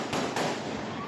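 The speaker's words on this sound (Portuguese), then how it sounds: "Acuados, moradores registraram os tiros." Gunshots from a shootout in the Baixada Fluminense, recorded by residents: two sharp bangs in quick succession over a dense, noisy background.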